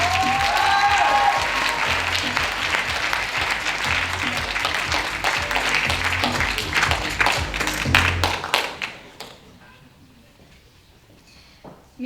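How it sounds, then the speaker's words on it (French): Audience applause welcoming Axelle at an eloquence contest final, loud sustained clapping from a crowd with background chatter, thinning to a few scattered claps and then near quiet toward the end. "On applaudit Axel"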